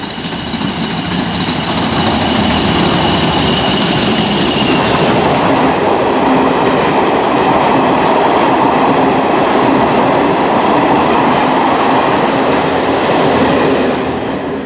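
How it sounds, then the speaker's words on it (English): An Irish railway train rolls into a station on a Bray line service, a loud continuous rumble of wheels and carriages with clattering rail noise, close by and steady throughout. "Here comes our next train."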